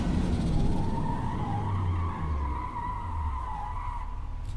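An LMP race car in Forza Motorsport locks its tires under hard braking, giving a steady, loud tire squeal that wavers in pitch over a low engine and road rumble for the whole stretch.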